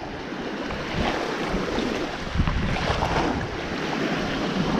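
Wind sweeps over a bay at low tide, a steady broadband rush with buffeting gusts against the microphone and faint water movement, loud and continuous with no talk.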